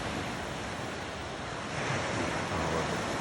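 Steady ocean surf rolls onto Kin Beach in Comox, Vancouver Island, at night, a continuous broad wash of waves with a slight swell partway through, no voices.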